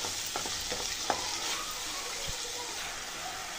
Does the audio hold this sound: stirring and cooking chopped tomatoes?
yes